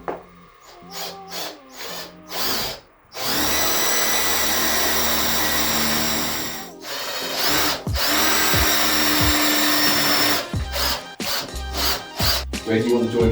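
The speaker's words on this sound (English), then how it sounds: "You can also use an ordinary drill for that." Power drill boring into the main brickwork of a cellar during a conversion, a loud sustained grinding whine running several seconds between shorter bursts of drilling, close by, with brief talk at the start.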